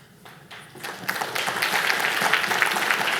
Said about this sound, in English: You didn't have to clap at that.